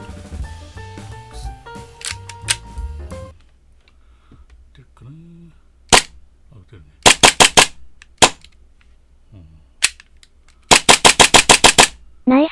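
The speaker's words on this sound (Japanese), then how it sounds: "先ほど試した Wii のマガジンが使えそうだったので、外部ソースで空打ちしてみます。" Airsoft gas blowback pistol, a BUL SAS II Ultra Light 3.25, dry firing on an external gas source: sharp metallic slide clacks singly and in rapid bursts, loud and close, after some opening rattling and handling noise.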